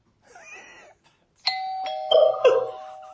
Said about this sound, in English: doorbell rang